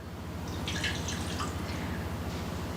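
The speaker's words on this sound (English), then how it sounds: "in the bowl with your egg yolks, you're going to do a 1/4 cup of water" A quarter cup of water is poured into a bowl of egg yolks, a faint trickle and splash over a steady low hum.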